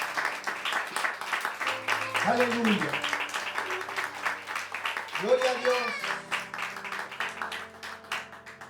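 A church congregation claps in a continuous run of rapid hand claps while voices call out over it, the applause sustained and fairly close throughout.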